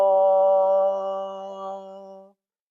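A school band plays a flow study line and holds its top note under a fermata, a steady sustained chord of rich brass and woodwind tone that thins slightly before cutting off cleanly after a little over two seconds.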